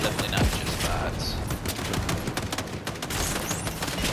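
Gunfire rattles through a Fortnite match, a dense run of rapid shots and bursts layered over constant game noise, loud and close throughout.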